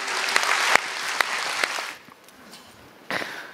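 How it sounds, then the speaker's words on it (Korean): A church congregation gives lively applause during a worship service. The clapping is dense, fades out after about two seconds, and then a short burst returns. "힘찬 박수 부탁드립니다."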